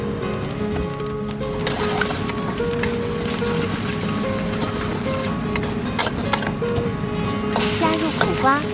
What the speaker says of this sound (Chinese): 先爆香蒜末，再倒入咸蛋，边压边炒30秒